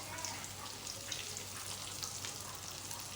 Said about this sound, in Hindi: दूसरी साइड से भी इसको अच्छी तरह से फ्राई कर लें